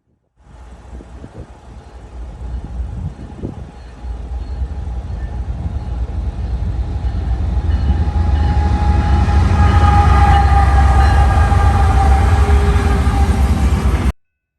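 A westbound CPKC freight train with a heritage Grey Ghost locomotive rumbles past, its heavy roar building and staying loud, with a long horn blast sounding in the second half.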